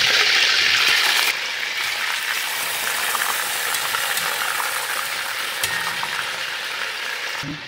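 Steady, loud sizzling of chicken legs shallow-frying in a hot pan until golden, continuous throughout with no talking.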